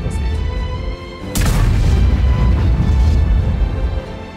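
A tank's main gun fires once in a tank video game, a single heavy boom followed by a long rumbling roar that lingers loudly under steady background noise.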